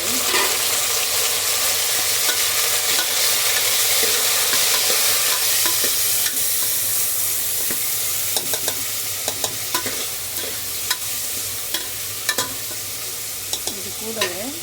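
Browned onions and tomato sizzle steadily in a pan while a spoon scrapes and stirs them, with repeated sharp clinks of utensil against metal toward the end.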